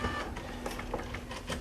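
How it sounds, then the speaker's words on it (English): Two dot matrix printers run together in an office, giving a steady buzzing rattle with repeated print-head bursts and a constant hum, loud and continuous with no talking. "We have 2 matrix printers running at the same time"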